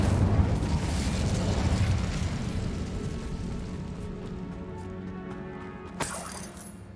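A fire spell cast in Hogwarts Legacy bursts with a loud, roaring rush that slowly fades into a lingering crackle, followed by a sharp bright hit near the end, with no voices.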